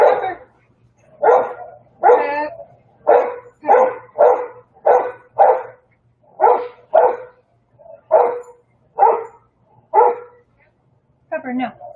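A dog barks loudly and close by, giving about a dozen sharp barks in a steady, insistent rhythm with short gaps between them.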